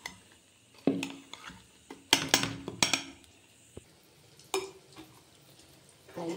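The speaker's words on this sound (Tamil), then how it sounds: "மாவை கரைச்சிட வேண்டியதான்." Paniyaram batter being stirred in a bowl, with scattered clinks and scrapes of a spoon against the sides in uneven bursts, close and fairly quiet, no talking.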